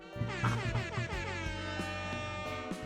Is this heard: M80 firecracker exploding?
no